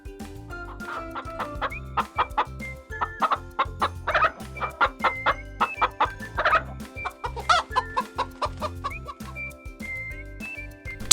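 Hen clucking in a farmyard, a run of short, choppy clucks with brief pauses, close and fairly loud over a steady background of other birds.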